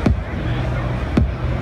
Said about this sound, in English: like 808 style kick sounds like this